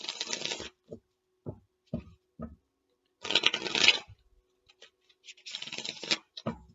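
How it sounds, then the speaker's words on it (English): Tarot cards are shuffled in quick riffling bursts, interspersed with soft taps and pauses, close and fairly quiet. "One more shuffle, and then I'll cut."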